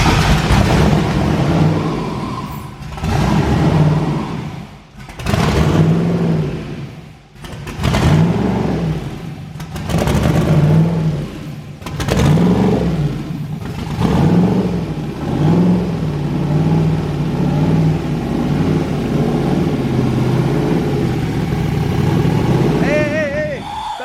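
A turbocharged Camaro engine revs in repeated bursts, rising and falling roughly every couple of seconds, loud and close, with people talking over it.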